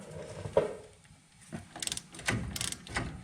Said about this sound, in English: I'm going to undo the glide pin bolts. Those are 14mm.